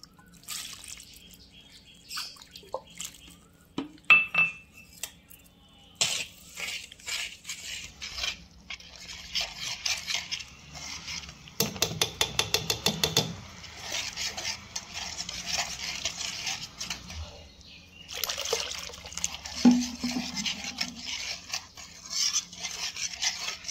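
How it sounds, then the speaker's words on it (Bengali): Rice flour being stirred with water into a thin batter in a bowl, with wet scraping and swishing strokes and intermittent clinks of a utensil against the bowl, no talking. "আগে জল দিয়ে নিই, একটু পাতলা করে গুলতে হবে।"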